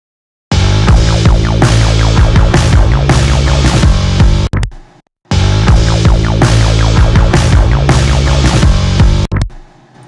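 Indie synth pop mix with the track spacer plugin switched off, a dense loud full-band passage with bass, drums and a leading synth, playing twice with a brief cut to silence between.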